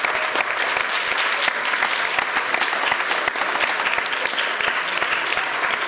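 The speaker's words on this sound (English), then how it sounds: "Give yourself a round of applause." A crowd at a youth conference applauds after a debate, dense and steady clapping from many hands filling the room for several seconds.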